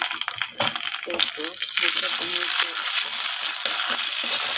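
Onions with ground cumin and ginger paste frying in a pan for a hilsa fish curry, a steady close sizzle with stirring scrapes while a voice talks over it.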